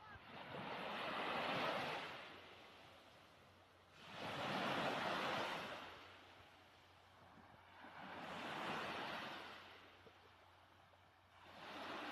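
Sea waves roll onto the shore in three slow, even surges, each building and fading away, soft and steady with light wind.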